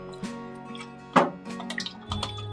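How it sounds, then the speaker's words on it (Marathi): Black peas being washed under running water in a pot, with scattered splashes and drips and a sharper pour or slosh in the middle, fairly close. "आता हे सगळं धुवून घेऊया आपण."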